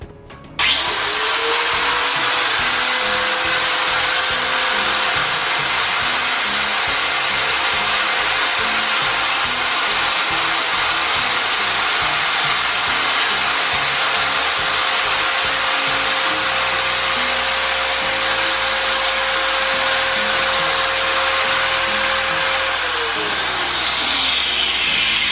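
Mollar AG9500 4-inch electric angle grinder spinning up and running unloaded with a steady high whine for about twenty seconds, then winding down near the end; loud and close, with no talk over it.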